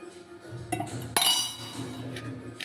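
Fish pieces being mixed with salt, spices and oil in a bowl for a fish fry, heard as close clinks and scrapes of a spoon on the bowl with soft wet squelches between them.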